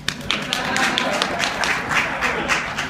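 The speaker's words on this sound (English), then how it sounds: "That's a clapping moment." An audience at a community college law and social justice club event claps in a steady patter of individual hand claps, moderately loud in a room.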